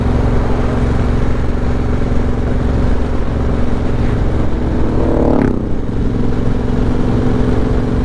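Triumph Bobber motorcycle engine held at wide open throttle, a loud, steady close-up drone with a brief pitch sweep around the middle of the run.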